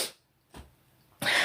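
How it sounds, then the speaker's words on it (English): A sharp, breathy sneeze bursts out close to the microphone after a couple of softer puffs of breath, loud and abrupt. "I gotta sneeze."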